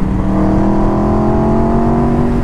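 An Aprilia RSV4 RR's V4 engine growls steadily under a rider on an Indian road, a loud, close, sustained tone with strong harmonics holding nearly constant pitch.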